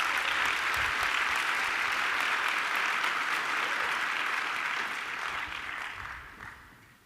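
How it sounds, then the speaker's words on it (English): Graduation ceremony audience at Mandela University's Gqeberha campus breaks into a sustained round of applause, broad and even for several seconds before fading out toward the end. "Can you give them a round of applause?"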